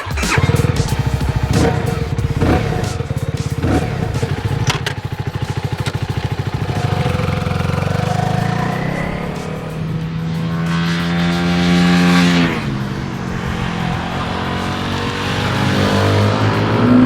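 A CFMOTO 300SR motorcycle with a 292cc engine is ridden on open roads, the engine note rising and falling through several gear changes, with sustained revving and wind rush, loud and close throughout.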